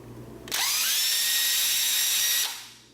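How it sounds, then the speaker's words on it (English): A power drill drilling a pilot hole in plywood whines steadily for about two seconds, starting abruptly and spinning down at the end, close and loud. "I'm going to drill a pilot hole."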